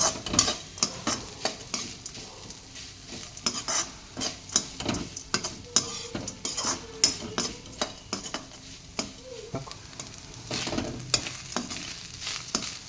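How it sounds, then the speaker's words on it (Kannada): Grated coconut being stirred and fried in a pan on low heat, steady scraping stirs of a spoon against the pan in a loose rhythm over a faint sizzle, close and fairly quiet, with no talk. "ಈಗ ಚೆನ್ನಾಗಿ ಒಂದು 2 ನಿಮಿಷ ತೆಂಗಿನಕಾಯಿನ ಹುರಿಯೋಣ."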